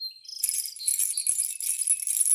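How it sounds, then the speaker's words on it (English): Bright, high jingling of small bells shaken continuously, a shimmering metallic tinkle standing in for a chorus of frogs. "So you could make this sound with some jingle bells."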